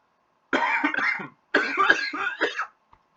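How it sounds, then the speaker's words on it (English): Two harsh bursts of coughing, each a rough cluster of hacks, loud and close, separated by a short pause, with a faint click afterward and quiet surroundings. "that voice just makes me cough"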